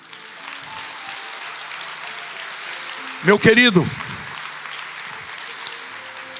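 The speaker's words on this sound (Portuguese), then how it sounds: "A igreja aplauda ao Senhor" A church congregation applauds during a sermon, a steady wash of clapping running throughout while a voice speaks briefly over it in the middle.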